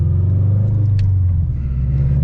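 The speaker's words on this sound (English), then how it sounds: "if I'm on the highway, the drone is so obnoxious that I can barely like talk to the person in the passenger seat" Subaru BRZ engine and exhaust droning on the road, a loud, steady low-pitched hum with constant rumble throughout, no speech.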